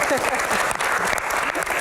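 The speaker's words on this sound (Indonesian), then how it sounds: "Tepuk tangan." Brief burst of applause from a studio audience at a Q&A talk show, dense clapping filling the short moment with voices mixed in beneath it.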